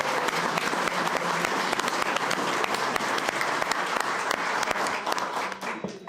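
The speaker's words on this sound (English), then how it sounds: "How about a round of applause for him getting his badge?" A room full of people at a city council meeting in Oldsmar applauds steadily for several seconds, sharp individual claps forming a dense, even patter that tapers off near the end, with no voices over it.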